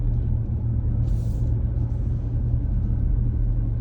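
A car drives along Madison Avenue in Manhattan, heard from inside as a steady, heavy low engine and road rumble. A faint airy hiss rises briefly partway through, and no one speaks.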